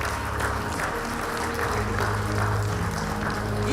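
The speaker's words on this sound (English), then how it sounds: "Let us continue clapping for them." An audience applauding the CRA staff at a county government policy launch: steady, sustained clapping from a crowd over a low room hum, with no break in the clapping.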